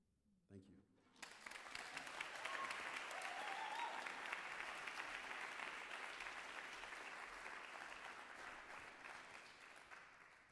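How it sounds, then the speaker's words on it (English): After a brief murmur, a crowd at a spoken word and poetry night bursts into sustained applause that swells quickly and holds steady, dense clapping filling the room before slowly tapering. "You guys give Brother Julius one more round of applause."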